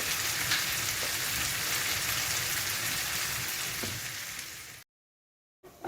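Meat samosa filling cooking in a pan, a steady close sizzle like rain across the whole stretch with a faint scrape or two, then cutting to silence near the end.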